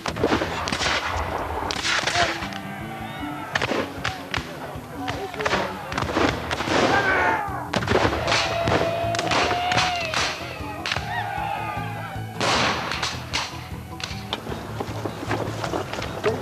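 Musket volleys and cannon shots crack and boom across an American Civil War reenactment battle in the UK, a dense run of sharp irregular reports near and far, with shouted voices among the firing.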